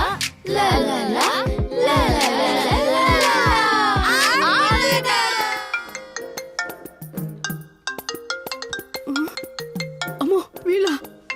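A mobile phone ringtone goes off in a Telugu comedy film scene, its repeating electronic melody first buried under loud, overlapping voices and children, then ringing out clearly on its own for several seconds.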